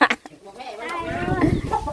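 Chickens, including small young birds, cluck close by in short bursts while people talk over them.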